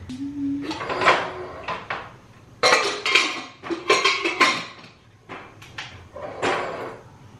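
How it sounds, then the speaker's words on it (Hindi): A metal pot of dal set onto a kitchen stove clanks among repeated clinks and knocks of utensils and vessels, several loud close bangs spread across the stretch. "तो दाल जो है वो मैंने चढ़ा दिया।"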